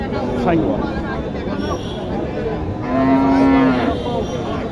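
At a busy cattle market in Naogaon, Bangladesh, one cow gives a single loud, close moo midway through, set against steady crowd chatter and background noise.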